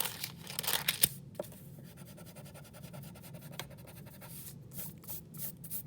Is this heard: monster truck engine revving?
no